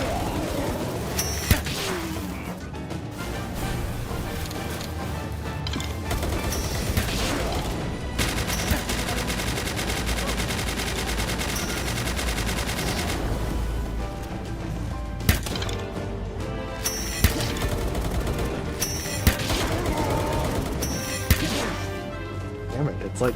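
Gunfire in the Palworld video game, bursts of shots and sharp impacts recurring across a busy game soundtrack, with a player talking over it.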